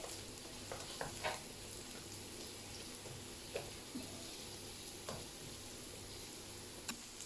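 Onion and vegetables for a Spanish pisto sauté gently in a frying pan, a soft steady sizzle with a few faint clicks of stirring, quiet and close with no talk.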